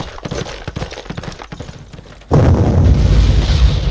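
Artillery fires in the World War II strategy game Panzer Corps, a sudden heavy boom that hits after some light clicking and rumbles on as a loud, dense roar until the end.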